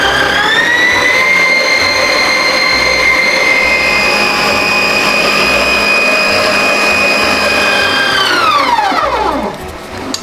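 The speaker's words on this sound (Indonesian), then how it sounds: "Kita akan mix. Dan ini aku menggunakan stand mixer dari Idealife." Idealife stand mixer beating margarine and butter into a marble cake batter, a steady loud motor whine with strong harmonics that holds for several seconds, then spins down and fades as it is switched off.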